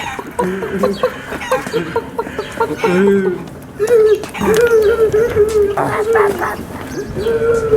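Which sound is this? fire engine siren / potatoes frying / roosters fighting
roosters fighting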